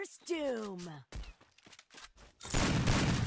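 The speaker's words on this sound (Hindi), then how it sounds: "MP40 से पेल दिया।" MP40 submachine gun fire in the Free Fire battle royale game during a live clash squad tournament match, a dense noisy burst of rapid shots arriving at the end after a stretch of voice chat talk.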